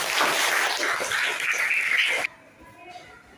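Children in a classroom clap loudly together during a maths game, a dense burst of applause mixed with young voices for about two seconds before it cuts off abruptly to quiet room sound.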